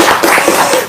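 An audience claps together, a loud, dense burst of hand claps filling the short moment close by.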